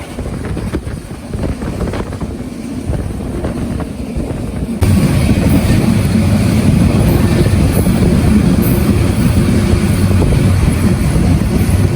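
Burimari Express passenger train at Tangail station, a steady loud rumble of carriages and wheels that jumps up sharply midway and holds as a continuous close roar.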